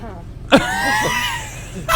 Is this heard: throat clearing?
yes